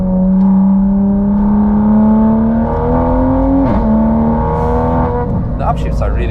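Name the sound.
hybrid turbo Toyota Supra driving at the Nürburgring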